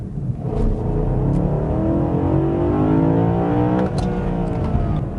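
A BMW E92 M3 with its naturally aspirated high-revving engine roars loudly and steadily, climbing through the revs in one sustained, close-up run with no talking.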